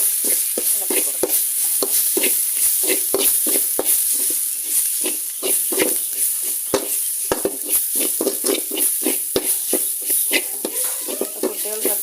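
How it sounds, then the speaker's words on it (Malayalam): Drumstick leaves with crushed dried chilli are stirred in a hot pan, giving a steady soft sizzle punctuated by repeated scraping and tapping strokes of a spoon at a close, even pace. "നന്നായിട്ടൊന്ന് ഇളക്കി കൊടുക്കാം"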